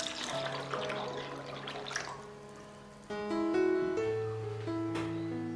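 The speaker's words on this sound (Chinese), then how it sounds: "加入适量清水。" Water is poured from above into a cooking pot of lotus seeds, splashing at first and then settling into a gurgling fill with rising tones as the level climbs, close by and with no voices.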